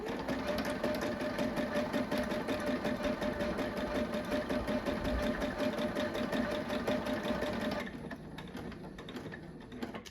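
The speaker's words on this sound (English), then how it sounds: "I have the S, so I'm just going to start" Sewing machine stitching letters for a quilt label, a fast continuous mechanical whir and patter running steadily close by, then dropping away to a quieter hum near the end.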